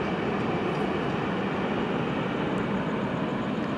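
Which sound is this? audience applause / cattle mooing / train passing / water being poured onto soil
train passing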